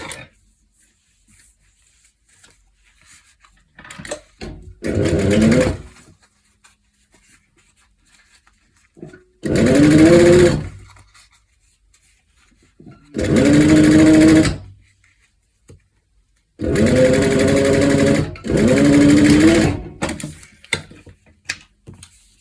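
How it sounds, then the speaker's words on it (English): A home sewing machine topstitching along the edge of a leather corset, running in four separate whirring bursts of a few seconds each, close and clear with quiet gaps between them. "we're going to top stitch on the edge"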